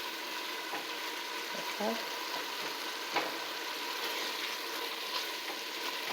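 Meat frying in oil in a pan on the stove while spaghetti is being made, a steady crackling sizzle throughout, with brief clatters and a short spoken word near the middle.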